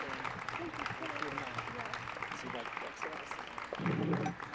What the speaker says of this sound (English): Big round of applause for Paul Lind